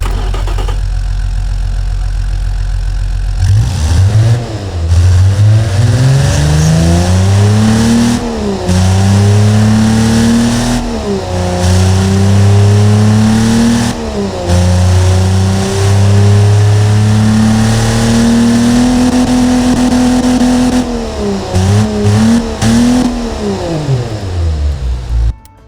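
A 1974 Ford 300ci straight-six engine in the game Automation idles, then revs repeatedly, rising and falling in pitch, loud and close with no talking.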